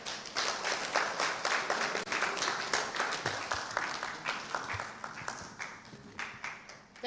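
An audience at an agribusiness event in Ghana applauds after a speech, with sustained, fairly close clapping of many hands throughout, fading slightly toward the end.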